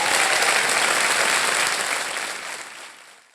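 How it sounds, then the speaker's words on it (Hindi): Studio audience on a quiz show stage clapping together in loud, dense applause that holds steady and then fades out toward the end. "तालियां बज जाएं इनके लिए।"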